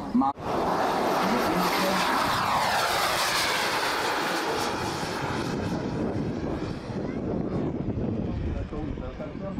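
A propeller airplane engine drones loudly and steadily throughout, with a sharp onset at the start and a slowly shifting pitch that suggests the aircraft moving past; voices can be heard faintly beneath the engine.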